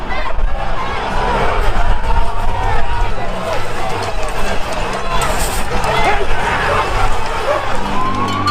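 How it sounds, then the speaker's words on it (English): A crowd of thousands overwhelms police at a protest in Melbourne, Australia. The result is a loud, dense roar of shouting voices and running feet, sustained throughout. "What you've just witnessed is the crowd of thousands overwhelming police."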